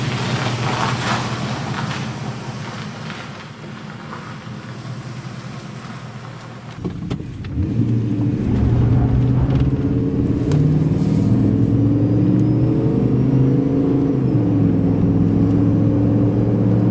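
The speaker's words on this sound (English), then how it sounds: "move some cars, go for a test drive." A 2002-2006 Dodge Ram 1500 RWD pickup on a test drive after front suspension work, its engine rumbling steadily from inside the cab, growing louder and fuller as it pulls away and keeps cruising.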